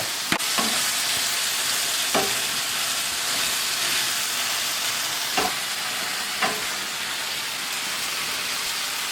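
Ground beef seasoned with salt, pepper and minced garlic frying in a pan, a loud, continuous hiss and sizzle with occasional clinks and scrapes of a utensil stirring.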